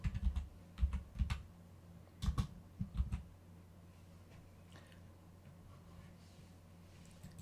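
Computer keystrokes come in a few quick bursts and single taps up close, then stop, as Python code is typed on a keyboard in a quiet room.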